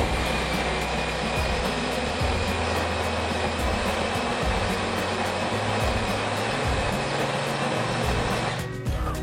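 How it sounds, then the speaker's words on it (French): A Jura D6 coffee machine's built-in grinder crushing coffee beans, a loud steady rough whirring grind that runs continuously for several seconds and cuts off abruptly at the end. "On entend donc le broyeur qui fonctionne, il moule le grain"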